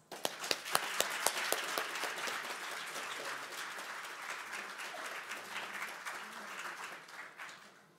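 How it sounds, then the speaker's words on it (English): An audience applauds a guest speaker at a church conference session, sharp claps opening strongly, then settling into steady, dense clapping that fades slightly toward the end, with no voices over it. "So please give him a round of applause."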